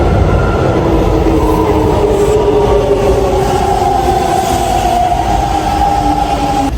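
A train in Japan rumbles close by with a loud, continuous roar and rattle that holds steady throughout, with no talking.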